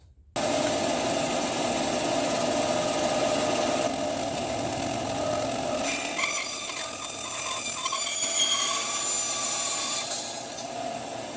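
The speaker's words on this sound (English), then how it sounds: "So we're just gonna take our bandsaw here and cut through our lines." A bandsaw cuts through pallet wood slats in a loud, continuous, steady roar lasting about ten seconds, with slight shifts in tone as the blade moves through the wood.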